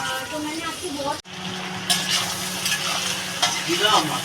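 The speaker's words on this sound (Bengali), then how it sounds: "বন্ধুরা চিংড়ি মাছটা ভাজা হয়ে গেছে" Prawns fry in a pan with a steady sizzle and occasional stirring scrapes, close and continuous after a brief break.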